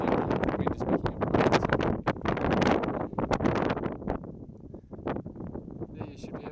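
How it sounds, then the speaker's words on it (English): Gusting wind buffets the microphone on an open hillside, a steady loud rushing roar that eases slightly toward the end, with a voice speaking faintly beneath it. "Wind is picking up."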